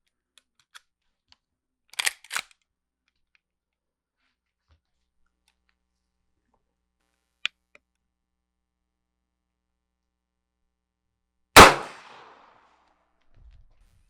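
A single loud, close report from a Rossi R92 rifle breaks a long near-silence, decaying quickly. A few faint clicks and handling taps come earlier in the quiet.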